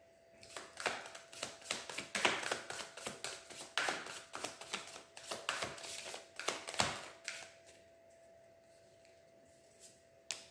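Tarot cards are shuffled and drawn close up in a quiet room, making a rapid run of crisp slaps and riffling flicks that ends in a few softer handling sounds as the deck settles.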